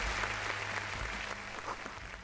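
Applause from a crowd plays as a sound effect in the Disco Elysium game, a steady patter of many claps over a low hum, fading slightly toward the end.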